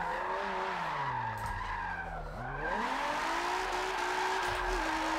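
Nissan 350Z with its VQ engine revving hard while drifting, a loud, sustained engine roar rising and falling in pitch, mixed with continuous tire squeal and skidding, close up and uninterrupted for the whole stretch.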